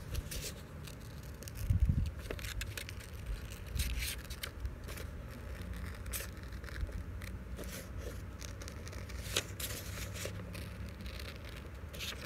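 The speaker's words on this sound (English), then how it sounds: "So what I'm gonna do now is gonna cut it. I'm gonna cut it out." Paper being snipped with scissors while a circle is cut out for a beach ball craft, a string of soft crisp clicks and scrapes close up, fairly quiet and with no talking.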